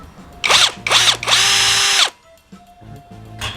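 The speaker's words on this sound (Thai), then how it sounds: "เราจะใช้ตัวสว่านโรตารี่นะฮะ เจาะรูลงไปนะครับ" A rotary drill bores holes into a concrete floor in three loud, close bursts, two short and one longer, each whining up to speed and then stopping, followed by quieter clunks.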